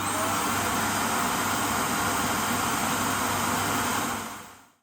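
A Yeedi Vac 2 Pro robot vacuum station self-empties with its 1000-watt motor, giving a loud, steady, broadband roar like an ordinary vacuum that runs continuously before cutting off at the end.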